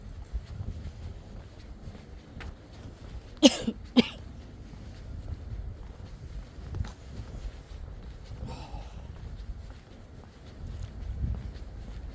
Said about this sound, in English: This cough seems to have plagued me.